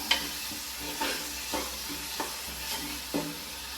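Onions sautéing in a pan for soya bean curry hiss with a continuous low sizzle, broken every second or so by a spatula tap or scrape against the pan.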